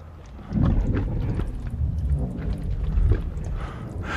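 Violent Coriolis storm winds from the film Dune roar as a dense, low, rumbling wall of wind, loud and continuous, swelling slightly without any voices.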